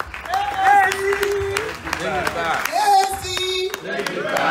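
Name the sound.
audience clapping at fundraiser dinner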